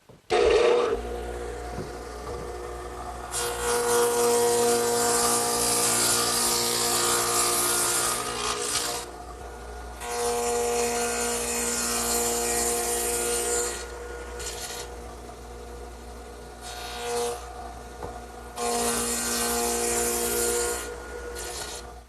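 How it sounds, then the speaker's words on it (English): A radial arm saw fitted with a stacked dado head cutter takes several passes through wood, each long, loud rasping cut separated by the lower hum of the running motor. "I've also put my stacked dado head cutter in the radial arm saw and carefully adjusted the height so that it will remove about 9/16 of an inch of material."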